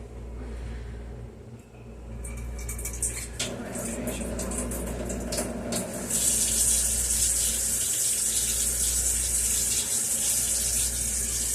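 A kitchen tap runs cold water for baking, a steady gushing stream that swells louder partway through and keeps flowing without pause.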